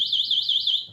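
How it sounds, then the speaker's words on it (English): A Joyor F7S electric scooter alarm sounds at close range with a loud, steady warbling electronic tone that rises and falls in quick regular cycles. It runs for about a second, alone. "If somebody was to move it, you can set the alarm."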